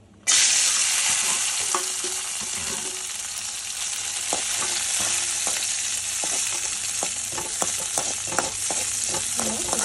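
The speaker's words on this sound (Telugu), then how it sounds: "ఇదే కడాయిలో మనం కొద్దిగా నెయ్యి తీసుకొని ఇందులో బాదం మరియు జీడిపప్పు వేయించుకుంటున్నాను." Almonds and cashews frying in ghee in a kadai, a dense, steady sizzle that starts suddenly and continues throughout, with occasional scraping stir sounds and light clinks close by, no talking.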